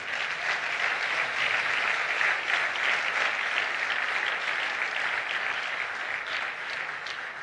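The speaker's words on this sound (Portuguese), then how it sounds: "Aplauda o Senhor." A church congregation applauds steadily and loudly throughout, a dense, sustained clapping from a large crowd with no speech over it.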